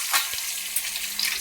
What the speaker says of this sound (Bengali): এখানে একটা মাছ ভাজা হচ্ছে